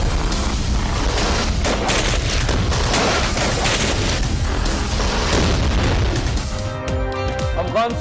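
Gunfire in a cross-border attack on a Pakistani border check post at Rajgal, heard as a dense, continuous stream of sharp bursts and booms, with music entering near the end.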